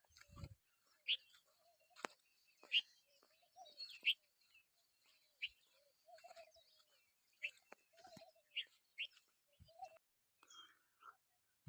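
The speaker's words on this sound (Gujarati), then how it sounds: "જો કેવા પક્ષી બેઠા છે મસ્ત" Short, sharp bird chirps at intervals in a quiet outdoor farm setting in a village, with soft low coos and faint murmurs in between.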